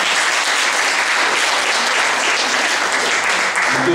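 A political meeting audience in Ancona gives sustained, dense applause that stays steady and loud throughout, with no speech over it.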